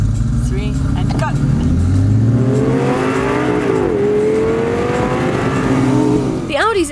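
An Audi Spyder race car launches hard from a standing start, its engine note climbing steadily through the gears, loud and close and running continuously throughout.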